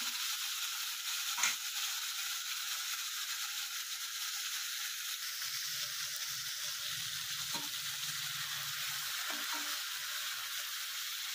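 Loitta fish frying in a pan over a high gas flame, a steady close sizzle throughout with a few sharp clinks and rattles of utensils, no voices.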